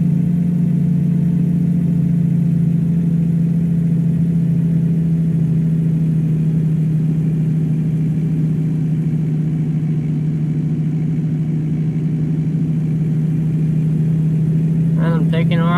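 An oversized-load truck in American Truck Simulator labors uphill, its engine holding a low, steady, droning hum throughout, with a brief spoken voice near the end.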